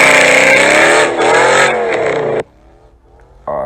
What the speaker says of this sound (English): I think it's an Audi S4 or RS4 with a V8